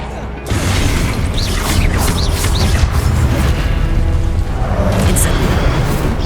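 Expelliarmus, the disarming spell in the video game Hogwarts Legacy, casts amid loud, continuous battle noise with rumbling booms and whooshing magical effects, voices audible beneath the fight.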